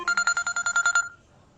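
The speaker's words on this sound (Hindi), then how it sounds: "ये आपकी बेटी का फोन आ रहा है किसी।" A phone rings with a fast series of about ten bright, even electronic pulses that stop abruptly after about a second, followed by near quiet.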